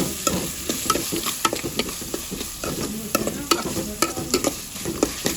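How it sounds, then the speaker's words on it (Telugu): Chicken curry is stirred in a sizzling pan, a busy run of scraping and clacking utensil strokes over a constant frying hiss, close by and without talk. "ఇప్పుడు మనం కూరని మళ్ళీ ఒకసారి కలుపుకుని"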